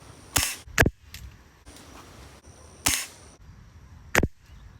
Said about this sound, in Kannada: ಸೆಕೆಂಡ್ ಶಾಟು ಹೊಡೆದ,